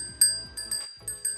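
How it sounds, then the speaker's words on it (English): A small brass dinner bell rings close up in several quick shakes, each strike a bright, clear ring with a short decay, and a brief pause in the middle. "I found in my curio this little brass dinner bell, and it still works."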